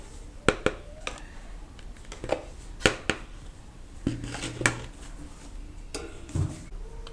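Intermittent metallic clinks and scrapes as a spoon stirs chili powder into a brinjal and lentil curry in a pot, with a few sharper knocks amid soft background noise.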